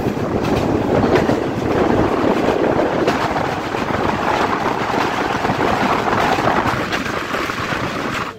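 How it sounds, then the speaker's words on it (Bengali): Benapole Express passenger train running on rails after leaving Kotchandpur, a steady loud rumble with rattling carriages and faint clickety-clack throughout, heard from on board with wind noise. "এখন আমাদের ট্রেনটি মোট 5 নাম্বার বিরতি স্থান কোটচাঁদপুর থেকে বিদায় নিচ্ছে"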